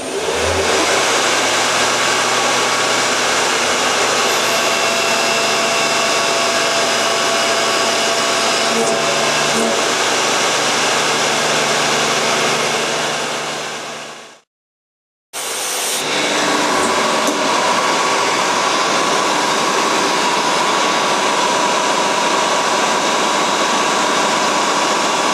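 A scratch-built mini CNC mill modeled on a Fadal VMC 15 contours surfaces with a half-inch end mill, giving a loud steady whir of spindle and cutting that runs continuously, cuts out briefly, then resumes.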